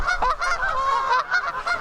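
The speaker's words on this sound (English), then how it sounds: "can't cast yet, there's 2 geese in the way" Geese honk loudly and repeatedly at close range, their harsh nasal calls overlapping in a continuous chorus.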